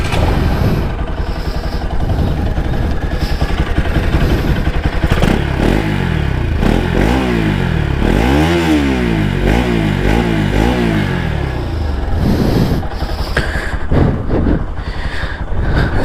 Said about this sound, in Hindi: जिसको मेरे एग्जॉस्ट की नोट सुनना था देख लो, ये आइडल पे है।